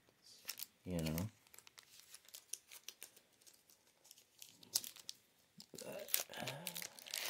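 Plastic blister pack of Pokemon TCG Back to School cards being torn and crinkled open, with scattered rustling and crackling bursts up close, while a person talks throughout.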